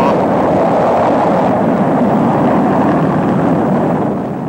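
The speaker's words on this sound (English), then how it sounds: "Liftoff." A Kistler K-1 rocket lifting off in a vertical launch animation, heard as a loud, steady, broadband rumbling roar that holds constant and eases slightly at the end.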